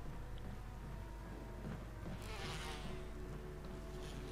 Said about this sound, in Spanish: Tenemos las abejas aquí dando por culo